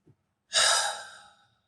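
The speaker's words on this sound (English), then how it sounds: "Take a deep breath." A single long, airy exhale of a deep breath, close and fairly loud, trailing off gradually after a faint short sound at the start.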